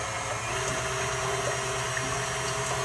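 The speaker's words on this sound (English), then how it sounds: "I beat my egg whites in the cream of tartar" Egg whites with cream of tartar beaten by electric mixer for a chocolate soufflé, a steady close whirring drone with a constant motor hum and faint liquid churning, no talk.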